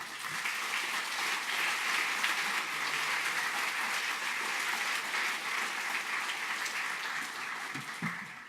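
An audience applauds steadily to welcome a university president onto the stage at a graduate student orientation, a dense, even wash of clapping hands from a large crowd with no voices on top.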